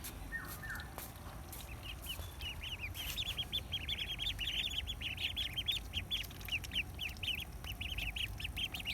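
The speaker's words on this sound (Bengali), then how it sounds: "10টা চীন হাঁস উঠাইছি।" Muscovy ducks call from nearby, a rapid run of repeated quacks rising over outdoor background noise after a few quiet seconds, with no one speaking.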